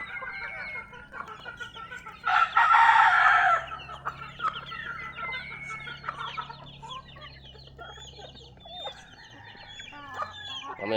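Chickens and ducks gather in a coop. A rooster lets out one loud, close crow early on, and scattered clucks and soft bird calls continue around it, with no talking.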